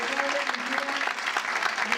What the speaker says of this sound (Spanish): despedimos con un aplauso